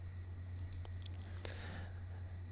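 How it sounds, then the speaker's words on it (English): A handful of faint, sparse keyboard key clicks as a password is typed on a computer, spaced irregularly over a steady low electrical hum. "typing in the password."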